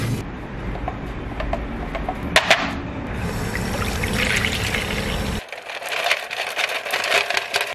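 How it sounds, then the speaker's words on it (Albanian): Water and ice poured into a large kitchen bowl: a steady, close pouring and splashing rush lasting several seconds, a brief clatter partway through, then a brighter trickling fill toward the end. "Ky ishte tasi më i madh që kisha në kuzhinë, kam vendosur akull edhe ujë"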